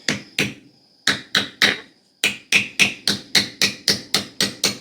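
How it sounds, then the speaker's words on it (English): A small hammer drives an axe handle into its head with sharp wooden knocks, a few spaced blows and then a steady run of about a dozen rhythmic strikes, close and loud. "I like starting off with a smaller hammer is I'm trying to drive it in"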